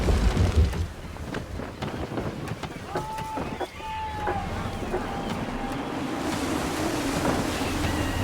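Gusty wind blows at sea in a sailing video game, buffeting and rushing alongside waves and ship noises. Short creaks and tones come and go, and the wind builds toward the end.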